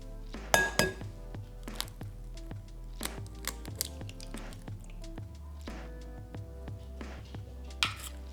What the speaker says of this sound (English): I found cracking eggs was too difficult, so now I just use glass ones